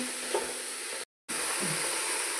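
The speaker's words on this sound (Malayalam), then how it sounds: "തക്കാളി ഒന്ന് വഴറ്റി വെക്കാം." Tomatoes and green chillies sauté for a veg pulao, with a steady close sizzle and soft stirring scrapes in the pan; the sound cuts out completely for a moment, then resumes.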